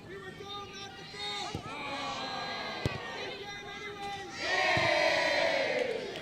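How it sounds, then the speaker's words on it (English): A crowd at a women's college soccer match, Eastern Florida State College against Daytona State College, roars steadily, then swells louder near the end, with shouts carrying across the stands. "Crowd trying to will them back in it."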